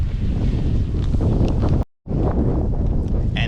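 Strong, chilly wind on an open Nebraska day buffets the microphone with heavy low rumbling gusts, broken by a brief dropout of near silence before the roar resumes at full strength.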